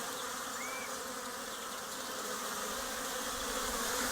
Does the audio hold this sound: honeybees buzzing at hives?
yes